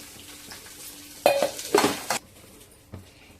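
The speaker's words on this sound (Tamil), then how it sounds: "ஒரு 2 பச்சை மிளகாய், வெங்காயம், கேரட், பீன்ஸ், புதினா இது எல்லாத்தையும் நல்லா வதக்கிக்கலாம்." Green chillies, onion, carrot, beans and mint being sautéed in a pan, with a few sharp stirring scrapes and clatters over a low steady sizzle, close by and without talk.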